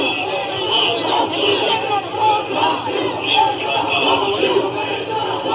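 A large street crowd at a George Floyd protest in Columbus, Ohio, a loud, continuous swell of many voices shouting and chanting together at middle distance.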